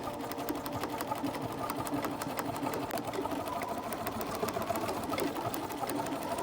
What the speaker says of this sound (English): I'm just going to stitch close to this edge right here